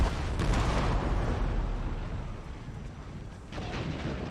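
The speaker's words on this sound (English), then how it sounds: "Did like one of my cannons just canister all of my cannons?" Cannons fire canister shot on an Empire: Total War battlefield, a loud rumbling blast that fades away before a second boom follows near the end.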